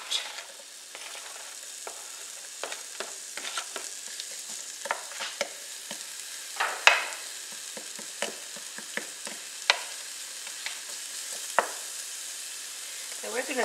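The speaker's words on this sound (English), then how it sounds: "we're going to saute this up just for a few minutes" Chopped onion sautés in olive oil in a pan, a steady soft sizzle with frequent sharp crackles and pops and occasional stirring scrapes, close and moderately quiet, with no talking.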